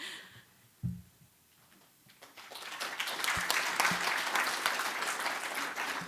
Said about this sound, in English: I was going to ask for applause for our great panel, but you beat me to it